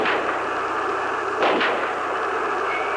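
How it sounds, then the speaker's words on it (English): Recorded gunshots from the JFK assassination in Dallas, a single muffled report standing out from a thick, constant hiss of noise. "Robert Groden synchronized the shooting sounds with the Zapruder film"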